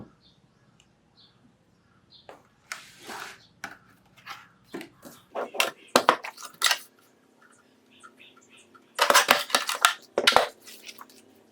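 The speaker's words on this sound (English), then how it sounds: "I'll use my corner chomper for it." A handheld corner chomper punch rounds off a paper corner during scrapbooking, giving a cluster of short, crisp crunching snips that come in small groups, close and clear in a quiet room.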